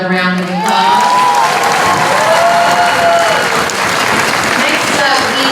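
Loud, sustained crowd applause follows a speech at a Front Royal community rally, steady clapping with a few cheers filling the whole stretch.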